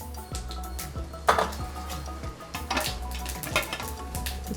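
Fenugreek seeds, chana dal, urad dal, mustard and cumin fry in a small pan of hot oil for tempering, a light steady crackle and sizzle broken by repeated metal clinks of a spoon against the pan.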